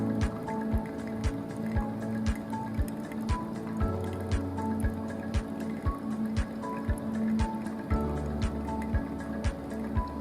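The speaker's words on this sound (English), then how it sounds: "For the third pour, use about 100 ml of hot water." Hot water poured steadily over coffee grounds in a hand-drip brewer, a soft continuous liquid trickle with faint, regular dripping and light ticking clicks throughout, close and quiet, with no talking.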